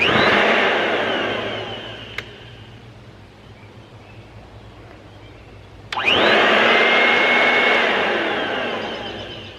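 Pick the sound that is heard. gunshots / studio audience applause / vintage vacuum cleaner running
vintage vacuum cleaner running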